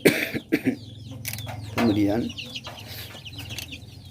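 Chickens and small chicks at a drinker, with a brooding hen nearby, giving scattered clucks and peeps over the course of a few seconds, mixed with a voice talking close by.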